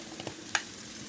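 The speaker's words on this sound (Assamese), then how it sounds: "এইখিনি অলপ ভালদৰে ভাজি ল'ম মই এইখিনি ভজা গৈছে" Turmeric and cumin powder with chickpeas sizzling softly in a pan for an eggplant dish, with a couple of brief scraping stirs, one sharper clink near the middle.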